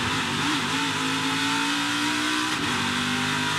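Craftsman Truck Series race trucks run the Charlotte Roval road course in a playoff race, with loud, continuous engine roar and shifting revs heard from on board, and no voices over it.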